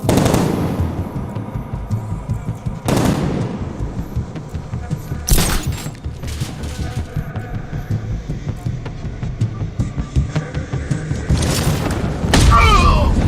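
Gunfire in the video game Batman Arkham Knight: a handful of sharp, loud bursts spaced several seconds apart, with voices and low game noise in between.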